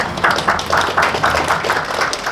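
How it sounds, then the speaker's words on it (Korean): An audience applauds at the 2024 Pyeongtaek International Peace and Security Forum, a moderate, steady round of clapping that pulses in a regular rhythm and carries on for a couple of seconds. "따뜻한 박수 부탁드립니다."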